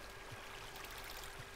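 Flowing water in Minecraft, a faint continuous trickling stream that runs steadily through the short moment with no voices.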